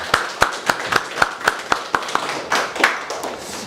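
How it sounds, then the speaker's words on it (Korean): Church congregation clapping during a Sunday worship service at a Korean church in Sydney: evenly spaced claps that are close and sharp, with a faint murmur of voices underneath. "우리 격려하는 박수를 한번 치겠습니다"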